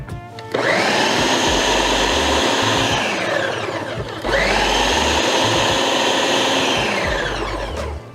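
A blender purees a jerk chicken marinade, breaking down its thicker pieces. The motor roars loud and steady in two long bursts with a short pause between them, and no voices are heard.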